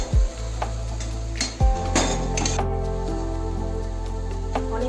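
Fried onions poured into chicken in a pan on a gas stove, sizzling loudly and steadily, with a couple of sharp clanks of a utensil at the start and a hiss that carries on unbroken throughout.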